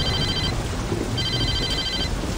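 Mobile phone ringing inside the Saints Row video game, a repeating electronic ring in two bursts over a steady low background of game noise, with no voices.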